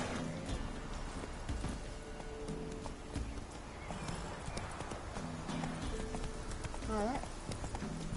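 Roach the horse clip-clops steadily in Witcher 3, with a brief whinny near the end. Hooves patter at a quick, even rhythm over a busy layer of game ambience and music.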